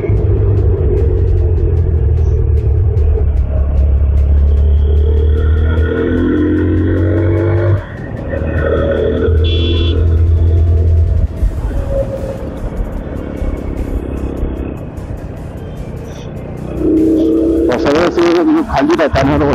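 Yamaha R15 V4 motorcycle riding along an open road in the early morning, a loud steady engine rumble with wind noise that briefly eases and picks up again, rising at the end; no one speaks.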